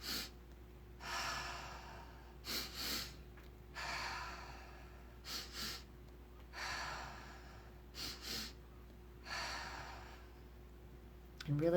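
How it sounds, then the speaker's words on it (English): Guided breathwork of two-part inhales through the nose followed by exhales out through the mouth, close and soft, with paired short sniffs alternating with longer, airy outbreaths in a steady repeating cycle over a faint hum. "It's going to be breathing twice into the nose and out through the mouth."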